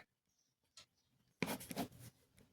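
A few faint taps, then a short burst of scratchy writing on a classroom board, quiet and close with no talking.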